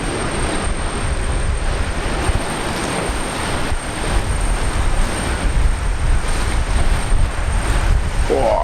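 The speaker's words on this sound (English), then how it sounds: "So Jetstar 787, the next one in." Jetstar Boeing 787 airliner arriving at Brisbane Airport in gusty post-cyclone weather, a steady broad engine roar with wind noise, sustained and fairly loud from start to finish.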